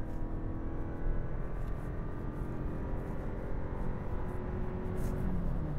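A 2023 Lexus UX 250h F Sport hybrid pulls away at full throttle from a standstill, a steady low engine drone and road rumble heard from inside the cabin, the pitch climbing slowly toward the end.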